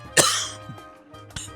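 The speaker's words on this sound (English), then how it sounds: "Started coughing for real there" A single sharp, close cough followed by a smaller throat-clearing burst, heard over quiet video game background music.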